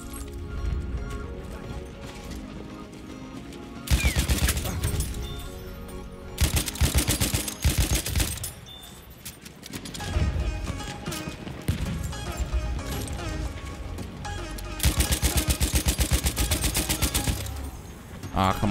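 Sustained bursts of light machine gun fire in the World War I shooter Battlefield 1, loud rapid strings of shots that surge and fade in several waves over continuous battlefield noise and music.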